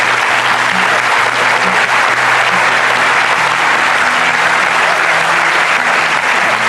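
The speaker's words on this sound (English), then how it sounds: "why don't we give the teenagers a great round of applause" An audience at a seminar gives a sustained round of applause for teenagers, dense and even clapping that fills the room loudly throughout without a break.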